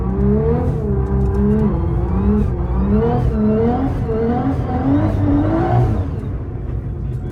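A Nissan R35 GT-R drives through snow, its engine droning loud and close with repeated rising and falling revs throughout, no voices over it.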